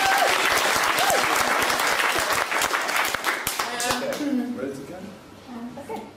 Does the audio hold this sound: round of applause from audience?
yes